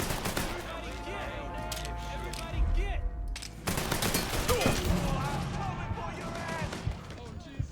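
Bursts of gunfire in Mafia III, volleys of shots with a brief pause midway, heard under a voice and game sounds, moderately loud.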